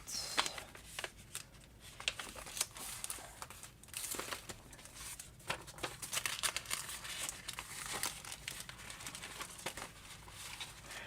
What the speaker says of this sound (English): I like the sound of crinkly paper. This piece I tore